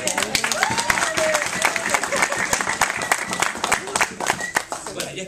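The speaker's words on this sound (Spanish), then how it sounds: "Un aplauso." Audience applause at a live event, a steady spatter of many hands clapping, dense and moderately loud, with voices cheering and talking over it.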